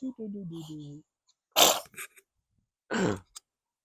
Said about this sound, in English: You sneeze on me, bro?